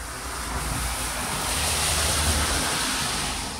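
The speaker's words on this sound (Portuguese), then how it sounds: "tá chovendo, né? Como vocês estão vendo ali na corrente, correndo água" Steady downpour with water rushing past, a dense continuous hiss that stays at an even, fairly loud level throughout, with no voices.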